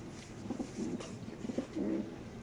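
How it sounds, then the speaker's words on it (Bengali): A racer pigeon held in the hand coos softly in a few low, rolling phrases, close and clear with no talking. "এই কবুতরকে ধরে দেখাই দিই আপনাদের"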